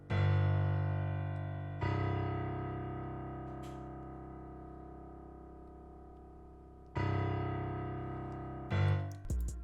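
Kontakt's Noya Pure preset plays a slow, dark ethnic melodic pattern, sustained plucked-string-like tones that swell and fade, with a few new notes struck and a short flurry at the end, alone and without voices.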